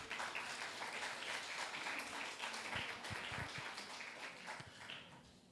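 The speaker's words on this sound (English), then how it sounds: "Can you give her an applause again" An audience applauds at a primary school graduation ceremony, a steady patter of clapping that stays fairly faint and distant throughout.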